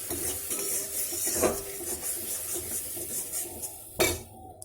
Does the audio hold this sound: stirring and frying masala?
yes